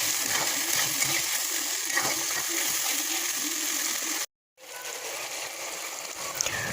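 Sauce-mixed water poured into a hot pan of frying paneer for chili paneer, a steady sizzling splash and hiss that runs on, drops out briefly, then resumes.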